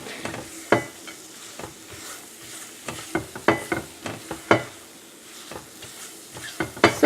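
A thick fig, date and nut mixture is worked with a spoon in a pan over the gas, giving irregular scraping and clacking strokes over a faint sizzle, fairly close and unhurried.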